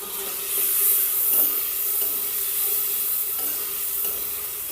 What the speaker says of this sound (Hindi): तो अब मैं तड़का लगा रही हूँ।